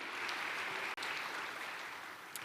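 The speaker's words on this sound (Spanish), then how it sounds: "Dale un fuerte aplauso." Church congregation applauding during a sermon, a steady wash of many hands clapping at moderate distance, even and sustained throughout with no talking.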